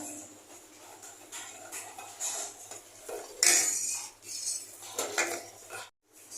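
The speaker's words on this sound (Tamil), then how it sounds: "இப்போ இது கைவிடாம கிண்டிக்கிட்டே இருங்க, இல்லைன்னா அடி பிடிச்சிரும், கெட்டி ஆயிரும்." Milk being stirred nonstop in a pan for kulfi, a spoon scraping and clinking against the metal in a steady, close, irregular rhythm with no talking.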